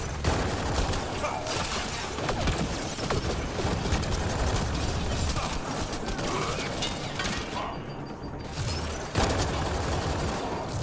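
Missile launches and mechanical weapon clatter in Mass Effect: Andromeda at Voeld form a loud, continuous barrage of bursts and ratcheting impacts across the whole stretch, with one brief dip before the roar resumes.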